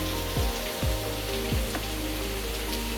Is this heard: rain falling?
yes